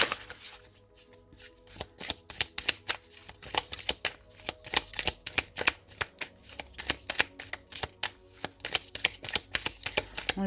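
Tarot cards being shuffled close up, a long run of quick riffling snaps and crisp flutters in a steady rhythm that grows denser and more regular toward the end.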